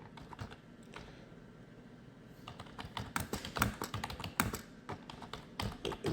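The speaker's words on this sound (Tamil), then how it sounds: "நீங்கள் தமிழ்லையும் டைப் பண்ணிக்கலாம், எப்படி வேணாலும் டைப் பண்ணிக்கலாம்." Typing on a computer keyboard: a sparse start, then quick bursts of crisp key clicks and clacks, close and fairly quiet, with no talk.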